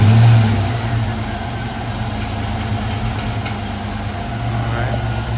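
A 1995 Ford Mustang GT engine idling after general maintenance, with a faint earlier hint of a misfire; a loud, steady low rumble runs close throughout, slightly heavier at the start.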